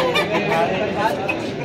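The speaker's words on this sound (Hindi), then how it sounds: "देख सकते हैं इस तरफ भी ये मुर्गे और मुर्गियां इस तरफ भी हैं।" Aseel hens and roosters clucking at a poultry market, a steady dense chorus of clucks set against busy crowd noise and voices.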